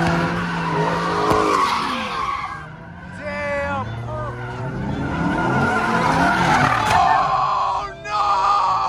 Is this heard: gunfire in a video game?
no